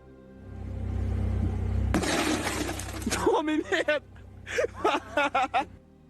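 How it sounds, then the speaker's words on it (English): Car window glass shattering as a man tries to open a beer against it, a sudden loud crash after an engine-like hum, followed by scattered voices and cries. "the glass shatters"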